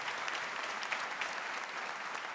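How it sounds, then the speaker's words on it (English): A high school commencement audience applauds the school staff in a continuous, even wash of clapping from a large crowd, moderately distant and steady throughout. "Please give them a round of applause for their support in making this night possible."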